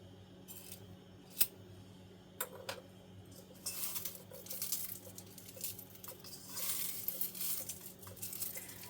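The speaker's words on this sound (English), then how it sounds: "Trying to cut it up so it'll fit into my tea ball." Scissors snip loose-leaf tea into pieces small enough for a tea ball, with a few sharp cuts followed by soft rustling and crinkling of the leaves, quiet and close.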